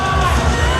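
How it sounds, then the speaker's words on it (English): A cosplay show audience yells and whoops in a brief, loud burst of cheering, thick with overlapping voices. "Let's keep the cheers going"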